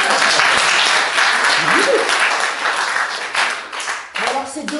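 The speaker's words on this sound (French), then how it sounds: "applaudissements." Audience applause at a French comedy stand-up show, a dense steady clapping that fills the room, with scattered voices and brief vocal sounds mixed in toward the end.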